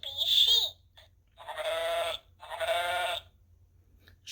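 Sheep bleating from an interactive Sesame Street button sound book, three loud, close bleats separated by short pauses, the first higher and wavering, the next two longer and quavering.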